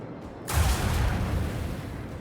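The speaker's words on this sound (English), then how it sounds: "Macro cannons, open fire." Macro cannons open fire in the space combat of Warhammer 40,000: Rogue Trader, a loud sudden blast after a quiet start that rolls into a sustained, rumbling barrage of heavy shots and mechanical noise.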